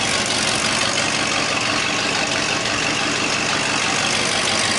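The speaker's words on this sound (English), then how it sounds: "High idle is engaged." A 1981 Mercury Marquis idles on high idle just after a cold start in severe cold, exhaust leaks adding a steady broadband hiss over a low, even engine rumble that holds constant throughout with no talk.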